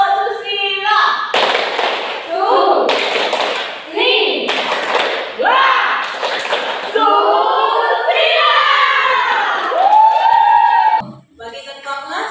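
Schoolchildren in an Indonesian classroom perform a teacher-led tepuk susila clapping chant, loud group voices chanting in unison punctuated by several sharp, rhythmic bursts of claps.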